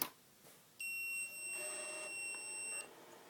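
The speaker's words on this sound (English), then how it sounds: "What better to end this with the VMU beep, which everybody hated." A Sega Dreamcast VMU memory unit gives a shrill, sustained electronic beep for about two seconds, piercing and tonal, preceded by a couple of soft clicks.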